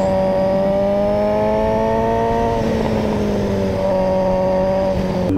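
A Kawasaki Z900 BS6 2022 motorcycle ridden in road mode, its engine holding a steady, loud drone that dips slightly in pitch midway, with wind noise and no speech.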